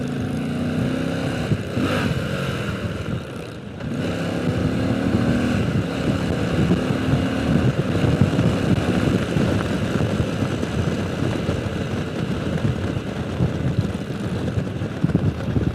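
A motorcycle engine drones steadily and close while riding through a corner in fourth gear, with a brief dip and change in tone near the start, a continuous throaty hum throughout.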